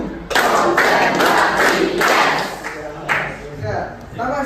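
Classroom children clapping together in a counted rhythm during a teacher-led clapping game, several loud bursts of group claps with a teacher's voice in between.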